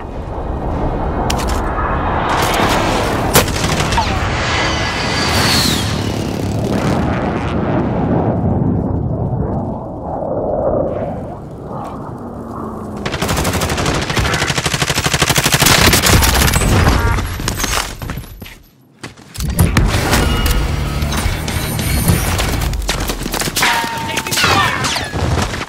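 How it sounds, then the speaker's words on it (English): A video game battle scene with airstrike explosions and heavy gunfire: loud, dense volleys and booming blasts that keep going almost without a break, dropping into a brief hush before another burst, with intermittent voices under the noise. "Allied precision airstrike in"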